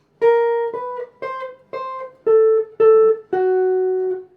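Guitar chord melody playing a pickup into the C section of a song: seven clean, separate plucked notes in an even rhythm, the last one held longer, close and alone.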